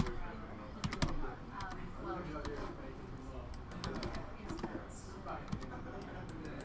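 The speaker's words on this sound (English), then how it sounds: "hold Alt and then press the arrow keys" Keys are pressed on a computer keyboard during animation work, holding Alt while tapping the arrow keys, giving a scattered series of sharp close clicks under a murmuring voice.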